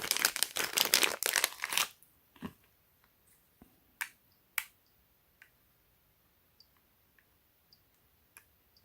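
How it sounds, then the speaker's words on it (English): A KERUI wireless alarm motion sensor gives small, sparse clicks and ticks close up in a quiet room, after an opening burst of louder rustling handling noise. "You can hear it clicking."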